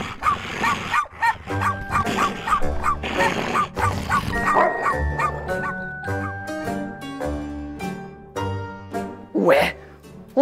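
Several dogs bark and yip in quick bursts over a musical background, loud and close, with a brief whimper near the end.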